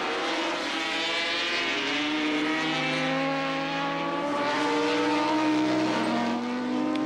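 Racing motorcycles, among them a 750 Yamaha, race on a circuit during a 1984 Swann Series race. Their engines make a loud, continuous high-pitched whine that rises and falls as they pass.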